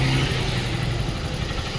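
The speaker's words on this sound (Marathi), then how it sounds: "अख्खी ट्रॅफिकच लागली ट्रॅफिक मध्ये अडकलोय आम्ही" Road traffic jam on the way to Kashid Beach, heard from inside a vehicle: a continuous engine rumble and road noise, steady and close, with no clear horns and no speech.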